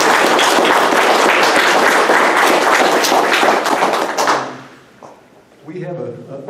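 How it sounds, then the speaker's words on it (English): An audience claps in a loud, dense round of applause at a January 6th vigil held at the Anniston Meeting Center in Alabama; the clapping lasts about four seconds, then fades as a voice begins talking. "we'd like to give a big thanks and round of applause to the staff here at the Anniston Meeting Center"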